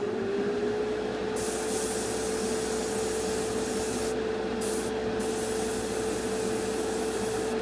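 Cheap airbrush spraying paint onto a Revell Colonial Viper model kit, a loud, steady close hiss that runs the whole time, with a fan droning underneath and brief dips in the spray.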